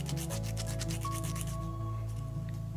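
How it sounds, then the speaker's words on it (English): A hard-shelled moonflower seed rubbed against sandpaper or an emery board, a close, continuous rhythmic sanding rasp with faint background hum, no talking. "using a sandpaper or an emery board and just rubbing till you break through that hard shell."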